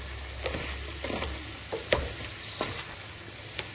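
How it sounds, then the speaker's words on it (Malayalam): Small onions frying with beef in a pan, a low steady sizzle broken by several sharp scraping stir strokes at uneven intervals, fairly close, with no speech. "ആവശ്യത്തിന് ഉള്ളി ഇട്ട് കൊടുക്കാം"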